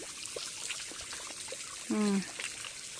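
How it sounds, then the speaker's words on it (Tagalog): A shower runs with a steady, hissing spray of water, close and continuous, with a brief tonal voice-like sound partway through. "Tingnan mo yung shower."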